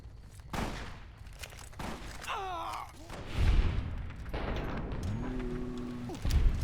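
A heavy anti-materiel rifle shot fired in Fallout: New Vegas, a sharp booming report over a busy game soundscape with chirping tones and low thuds around it.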